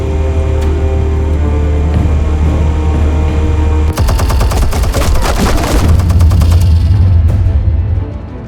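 Rapid gunfire-like explosive bursts from the Batman Telltale Series game, a dense crackling barrage starting about halfway through over a steady low hum, loud and close, fading near the end.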